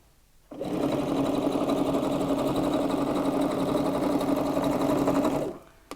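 A sewing machine stitches a reversible shopper bag with wadding, running in one steady, continuous burst for about five seconds before stopping. It is close and fairly loud, with no talking.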